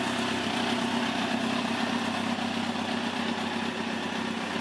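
A 2005 Kawasaki ZX10 motorcycle engine idles steadily up close, a loud, even rumble holding for several seconds with no talking.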